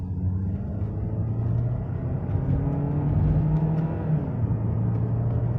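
Peugeot 2008 Griffe engine revving up under acceleration in sequential mode from second gear, a steady close cabin drone with rising engine tones.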